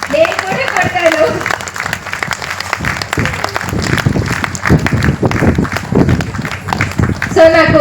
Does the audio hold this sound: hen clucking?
no